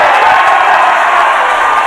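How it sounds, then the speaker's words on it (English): A crowd erupts in cheers and whoops at an axe throwing championship, a loud, dense burst of shouting and applause sustained for the whole moment. "The crowd erupts because both players got it."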